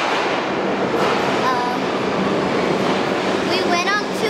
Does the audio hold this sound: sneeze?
no